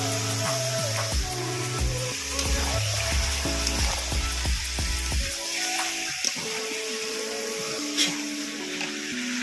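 Chicken pieces dropped into fried spices for a Bengali-style chicken biryani hiss and sizzle loudly and steadily, with stirring scrapes and clatter over a continuous frying bed, easing slightly toward the end.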